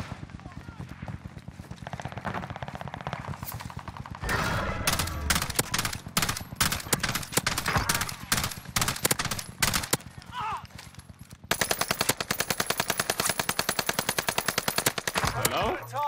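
AUG rifle fire in Call of Duty Warzone, with rapid automatic bursts of sharp shots in several volleys and a dense, steady stream near the end, mixed with game sounds and a voice talking.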